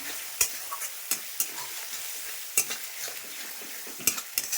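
Spice masala with cumin powder and potato is stir-fried in a pan, a steady sizzle broken by scattered clinks and scrapes of a spatula against the metal, with no one talking.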